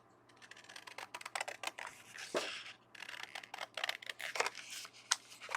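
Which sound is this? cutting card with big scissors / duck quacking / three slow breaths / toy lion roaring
cutting card with big scissors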